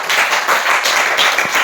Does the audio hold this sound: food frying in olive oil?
no